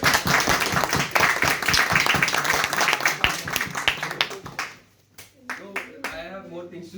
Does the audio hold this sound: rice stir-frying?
no